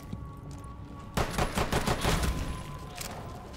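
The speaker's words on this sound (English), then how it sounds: "Is it wrong to run an LMG with infinite bullets?" Sustained automatic LMG fire from a Rainbow Six Siege zombie outbreak mission bursts in after a quiet opening, a dense rattling volley of rapid shots that stays loud and close to the end.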